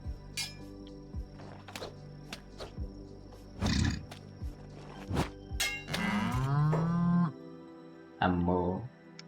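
A bull in the Kenshi video game lets out several long, low moos and bellows, loud and close, mixed with short thumps and other game noises.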